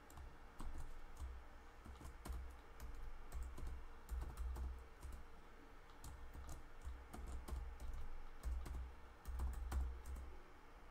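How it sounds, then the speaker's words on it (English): A password is typed on a computer keyboard while installing MySQL on Ubuntu Linux, with rapid, irregular key clicks continuing throughout over a low steady hum, close and quiet, with no talking. "So you come up with a password and write your password in there."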